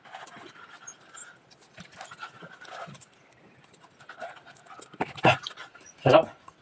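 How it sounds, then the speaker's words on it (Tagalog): A person eating a mukbang meal of sweet potato with dried fish and eggs breathes in heavy, audible pants between bites, with talking through the clip and two louder huffing breaths near the end. "Kumakain lang ako guys, pero ano, hinihingal ako."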